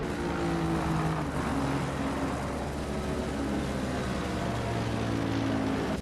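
A BMW race car in a sim racing game at Zandvoort pulls into the pits, its engine a steady, sustained drone with layered tonal whines holding throughout.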